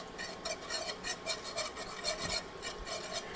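Whisk scraping rhythmically around a pan as flour is worked into melted butter for a roux, quick repeated rasping strokes at close range with no talking.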